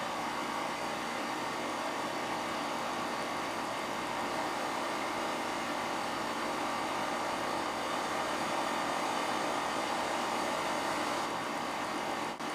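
A homemade Stirling engine bicycle runs on heat from a gas torch, giving a steady, even roar and hiss that holds at a constant level for the whole stretch, with no talking.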